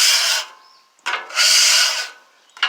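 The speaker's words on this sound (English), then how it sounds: "So what I do is I get right into the corners, just like this, and I scrape out." A metal spatula scrapes into the corners of a 36-inch Blackstone cast iron griddle, three loud, close, rasping strokes separated by short pauses.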